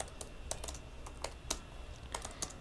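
Irregular bursts of clicking keystrokes on a computer keyboard, close and fairly faint, with short pauses between quick runs of taps.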